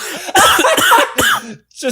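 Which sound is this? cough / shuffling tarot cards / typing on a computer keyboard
cough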